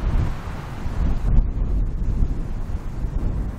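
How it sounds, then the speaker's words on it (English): Strong wind gusts across an open golf course, a loud rumbling buffet of low noise that surges and eases without a break. "The wind's shoving hard across."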